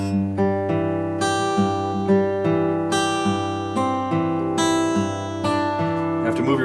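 Fingerpicked acoustic guitar plays the first two measures of a blues song in swing time, a steady alternating bass under bright treble notes, clear and close with no talking.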